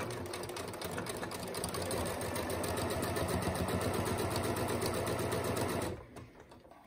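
Sewing machine stitching a quarter-inch seam on a cotton face mask, a fast rhythmic mechanical whir running steadily for about six seconds before stopping abruptly.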